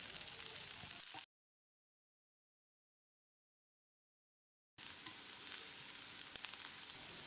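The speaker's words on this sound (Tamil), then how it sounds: "2 கொத்து கருவேப்பிலையை சேர்த்து வெங்காயத்தை கண்ணாடி பதத்துக்கு வதக்கிடலாம்." Chopped onions and curry leaves sauté in hot oil in a pan, giving a close, steady sizzle that cuts out abruptly into silence for a few seconds and then resumes at the same level.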